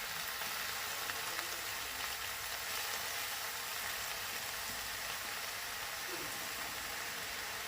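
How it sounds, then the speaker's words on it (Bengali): Spinach frying in a pan gives a steady, broad sizzle that holds evenly from start to finish, with faint soft stirring scrapes beneath and no voices. "পালং শাকটা একটু ভাজা করে নিচ্ছি।"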